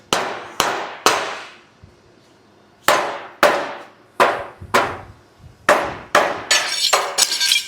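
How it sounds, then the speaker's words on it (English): A hammer taps a steel rear crossmember on a '55 Chevy wagon frame, giving about a dozen sharp, ringing metallic clangs in irregular bursts, close and loud, with a short pause partway through. "why don't you tap it with a hammer and just see if this thing will line up a little bit better"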